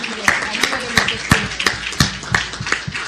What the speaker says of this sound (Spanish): Un aplauso para Paula.